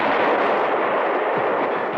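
A heavy cannon blast in an audio drama rolls out as a loud, continuous rumbling roar that fills the whole moment without letting up.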